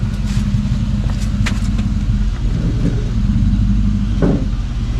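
A 2004 Toyota 4Runner engine runs and warms up after a radiator replacement, a loud steady low rumble close by with a slight rise in revs near the end.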